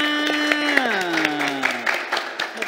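Scattered hand claps from an audience at an Indonesian village community gathering, sharp and irregular, sound beneath a loud, drawn-out voice calling over them.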